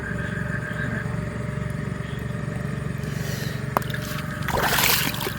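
A motorboat passes on open water, its engine a steady low drone that swells near the end along with a burst of splashing and rushing water; no voices are heard.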